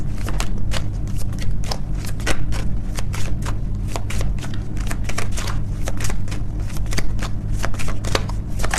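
An angel card deck is shuffled at close range, with a dense run of quick riffling flicks and snaps that carries on steadily throughout.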